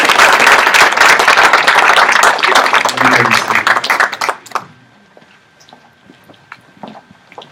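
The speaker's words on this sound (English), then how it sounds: "let's give the education folks another round of applause" Audience applause for education majors at a university honors induction ceremony, a dense burst of many hands clapping that fades out after about four and a half seconds into a quiet room with a few stray claps.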